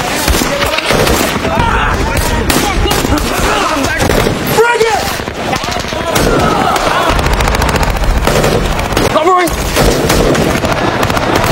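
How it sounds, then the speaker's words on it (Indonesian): Gunfire crackles through a war film firefight, with dense bursts of shots and booms filling the scene continuously, loud and close, while voices talk over the battle. "Di tengah sengitnya baku tembak, Sersan Baker yang terpojok meminta bantuan"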